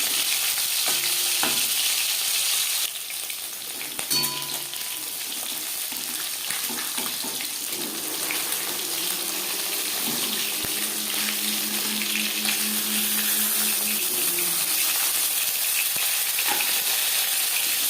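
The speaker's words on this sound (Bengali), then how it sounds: "আমি একটু কড়া করেই ভাজলাম, যেহেতু সামুদ্রিক মাছ।" Bhola sea fish frying crisply in hot oil, a steady close sizzle and crackle that runs throughout with occasional stirring and clinks.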